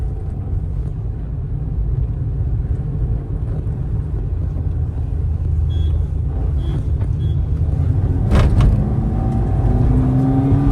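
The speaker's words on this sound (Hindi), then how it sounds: "40 की स्पीड में दोनों गाड़ियां सेकंड गियर में फुल रेस देंगी" Maruti Swift and Toyota Glanza cars in a drag race from 40 km/h in second gear, a loud continuous engine drone and rumble close by that swells as the cars accelerate together, with a brief horn-like blare near the end.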